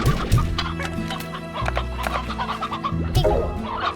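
Chickens cluck loudly and close by in the video game Slime Rancher, a burst of clucks at the start and another near the end over a steady low game soundtrack.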